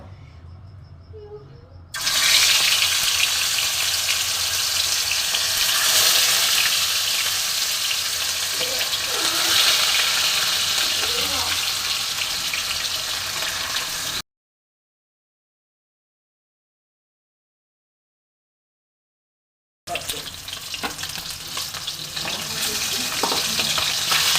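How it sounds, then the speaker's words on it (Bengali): Katla fish pieces fry in hot mustard oil in a kadai, giving a loud, steady, hissing sizzle that runs unbroken, drops out completely for several seconds, then returns just as strong. "এবার আমি মাছগুলো ভেজে নেব।"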